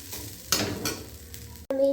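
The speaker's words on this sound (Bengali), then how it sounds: "এটাকে একটু ভালো করে নাড়াচাড়া করে ভেজে নেব এইভাবে।" Rice is stirred and fried in a hot pan while making nolen gur payesh, a brief scraping sizzle with a sharper stir midway and a short ringing clink at the end.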